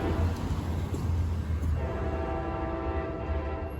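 A northbound passenger train led by three locomotives, two of them P42s, rumbles past at close range, a steady loud roar of engines and rolling cars with a sustained horn-like tone emerging midway.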